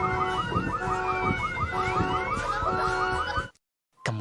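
A car alarm siren blares in rapid repeating warbling cycles, loud and steady, then cuts off abruptly into silence before briefly resuming.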